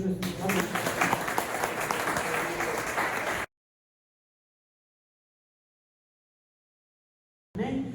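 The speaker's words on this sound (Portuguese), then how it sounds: "E as palmas louvam ao Senhor Jesus." Congregation applauding during a church service, a dense wash of many hands clapping together with some voices, cutting off abruptly into silence before a brief return at the end.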